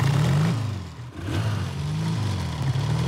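A Triumph motorcycle engine rumbles steadily nearby in a city centre, its low throb dipping briefly then building again as the throttle opens.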